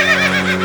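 A horse whinnying, a loud, close, wavering neigh that lasts under a second over a steady sustained tone.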